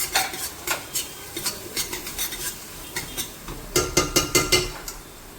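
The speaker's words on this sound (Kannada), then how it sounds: "ಕಾಳು ಮೆಣಸು, ಬಿರಿಯಾನಿ ಮಸಾಲ ಹಾಕಿ ಸ್ವಲ್ಪ ಹುರ್ಕೊಂಡು" Black pepper and biryani masala frying in a pan for chicken biryani, with repeated sharp scrapes and clinks of a utensil against metal over a soft background sizzle, a quick burst of stirring strokes near the end.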